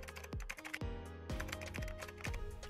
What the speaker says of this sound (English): To verify our installation, we're going to type in our website URL.